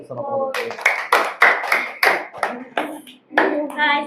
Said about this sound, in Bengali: জোরে হাততালি দাও সবাই